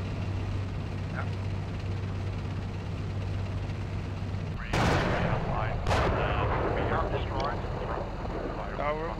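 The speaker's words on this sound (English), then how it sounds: "We took fire from the front right" Incoming gunfire striking a tank in a combat video game: two sharp, loud broadband impacts about a second apart, cutting through a steady low engine rumble, with team voices talking over the action.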